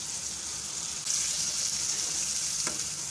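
Beef liver and finely chopped onion frying in a pan, a steady hiss that jumps louder partway through, with one brief clatter near the end and no talking.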